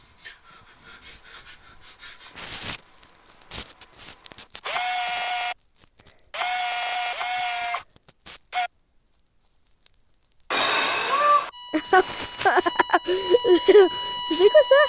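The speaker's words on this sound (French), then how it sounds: "Je vous informe que ça fait bip." Electronic beeps in the Five Nights at Freddy's horror game, a few sustained tonal bursts separated by silence, followed by harmonic alarm-like tones, with breathing and short noises from a player in between.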